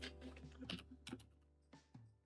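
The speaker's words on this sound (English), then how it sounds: "Can you guys hear it when I'm typing?" Computer keyboard typing during a Cardfight Vanguard deck-testing session, a handful of quiet, close key clicks in a loose irregular rhythm with no talking.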